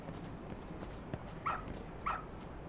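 Two short, moderately loud dog barks or yips sound about half a second apart against a faint background hiss, with a few soft knocks before them.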